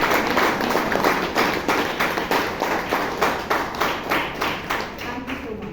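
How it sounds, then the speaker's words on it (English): Toastmasters club audience in Bangalore applauding a vice president of membership, a steady, fairly loud wash of many hands clapping with rhythmic pulses throughout. "I think we have to give our Vice President Membership Toastmaster Joe Scott a huge round of applause."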